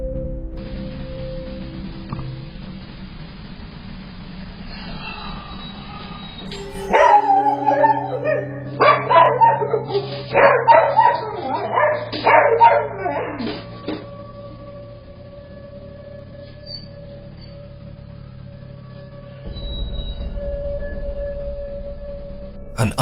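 A dog barks and yips excitedly in a loud burst after a quiet stretch, then settles, with a low hum in the background.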